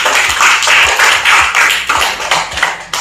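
A class of students claps hands together in a lively, rhythmic pattern, about two sharp bursts per second for three seconds, fairly loud and close in an indoor classroom.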